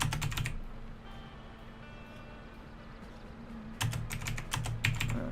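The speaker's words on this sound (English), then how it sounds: "I have the loudest keyboard in the world because this mic is very sensitive" Loud clattering computer keyboard typing picked up close by a very sensitive microphone, with dense bursts of rapid keystrokes at the start and again near the end, separated by a quieter stretch of low hum.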